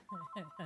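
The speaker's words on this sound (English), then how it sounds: "I always have my phone ringing in the background." Phone ringing faintly in the background, a short burst of warbling electronic ring tones in repeated pulses, quiet and distant.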